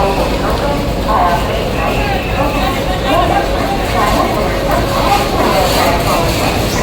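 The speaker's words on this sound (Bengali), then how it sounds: "আমাদের ট্রেন কিন্তু অলরেডি এই ঢুকছে" Saraighat Express, the Howrah–Guwahati superfast train, rolls into a platform at Howrah station, its low rumble steady and loud beneath a constant hubbub of crowd chatter throughout.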